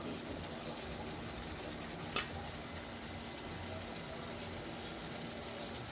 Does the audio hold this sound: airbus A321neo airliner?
no